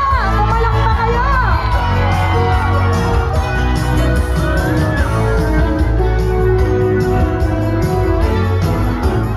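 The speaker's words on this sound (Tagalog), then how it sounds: "Asan na mga Bisaya? Pumalakpak kayo!" A large crowd at an outdoor campaign rally cheers and shouts continuously, a dense, loud roar of many voices with occasional whoops rising above it.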